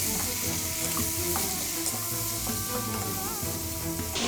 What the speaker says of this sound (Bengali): রসুন দিয়ে দিচ্ছি, পেঁয়াজ কুচি দিয়ে দিচ্ছি, কাঁচামরিচ দিয়ে দিচ্ছি। এগুলি ভালোভাবে একটু মিশিয়ে দিব।